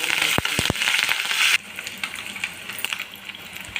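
Mustard seeds, cumin, garlic, dried chili and curry leaves hitting hot oil, a loud bright sizzle with a few sharp pops at first, then settling into a quieter steady crackle.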